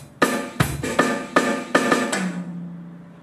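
Bar 35 of a rock song brings a drum fill of roughly six strong, evenly spaced hits with crashing cymbals, finishing on a low resonant tone that fades out, unaccompanied by speech.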